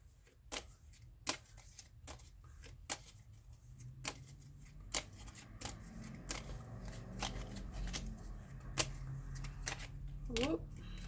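Tarot cards being shuffled in a series of sharp riffling bursts, roughly a dozen crisp flicks spread across the span, with soft handling noise and light rustling between them.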